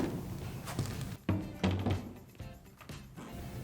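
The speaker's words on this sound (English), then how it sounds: "Simply remove this hose and lift the recovery tank." Lifting the recovery tank of a Tennant CT30 walk-behind floor scrubber produces a few dull plastic thunks and bumps up close, with light handling rattle between them.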